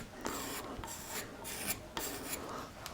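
A freshly ground woodcarver's scraper is pulled over a wooden carving, making a series of dry rasping strokes, each a short bright scrape, repeated steadily and heard up close without speech.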